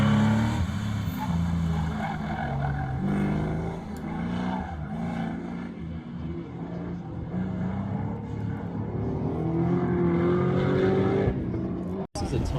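A car on an SCCA autocross run at Packwood holds a steady engine drone with shifting pitch as it accelerates and slows through the course, faint tire noise at times, with a voice talking over it.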